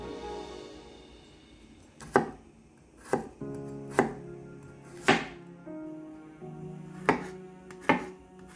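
A knife chops through two garlic cloves on a cutting board, giving about seven sharp, distinct thunks spaced roughly a second apart over quiet background music.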